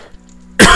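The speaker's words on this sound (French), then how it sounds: "Je suis désolé si des fois je tousse." A single short, loud cough from someone who has been ill, bursting in abruptly at the end after a quiet moment with faint hum.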